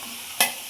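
Mushrooms for mushroom pepper dry land in a pan and begin frying, a single sudden sizzling burst that fades quickly.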